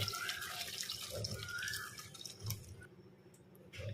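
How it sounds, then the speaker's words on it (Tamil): Hot water pours and splashes steadily over a goat leg in a container nearby, with a gurgling, filling quality, then tapers off toward the end. "ஓரளவுக்கு சூடான தண்ணியை இந்த ஆட்டுக்காலில் ஊற்றிப்போம்"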